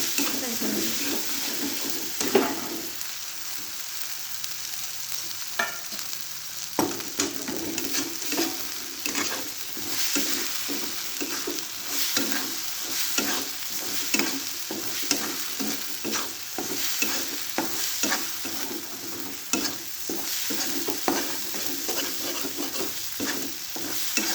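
Spices frying in hot oil for a Bhogi vegetable dish, stirred again and again so a constant loud sizzle carries rhythmic scraping strokes across the whole stretch.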